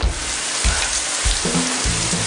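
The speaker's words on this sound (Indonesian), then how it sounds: "Ya ampun, hujannya gede bener." Heavy rain pours down during a flood, a dense, steady hiss that is loud and continuous with no talking.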